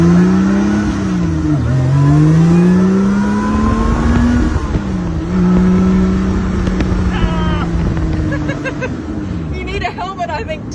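A Lotus Eleven 430 Final Evolution sports car accelerates hard: a loud engine note climbs sharply through gear changes, rising again and again, with voices talking over it.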